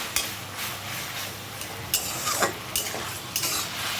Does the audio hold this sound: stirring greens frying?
yes